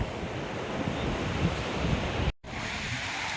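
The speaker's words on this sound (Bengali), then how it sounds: "দেখো ঢেউটা কি সুন্দর আসছে, দেখো সমুদ্র" Sea waves rolling onto the shore at Digha beach, a loud continuous surf roar mixed with wind buffeting the microphone, broken by a brief dropout near the end.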